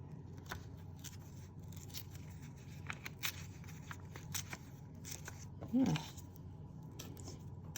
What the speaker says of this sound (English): So I'm going to do a second tear here